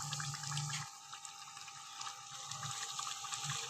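Water pours steadily into a pan of frying taro and chicken curry, a continuous bright splashing rush with faint clinks and a short low sizzle at the start.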